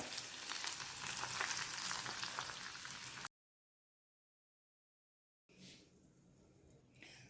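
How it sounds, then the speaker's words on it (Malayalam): Hot tempering of oil, chillies and curry leaves poured into papaya pachadi gives a loud, dense sizzle for about three seconds, then cuts to silence before a faint, quieter stretch. "ഈ താളിപ്പ് നമുക്കിതിലേക്ക് ഒഴിച്ചു കൊടുക്കാം"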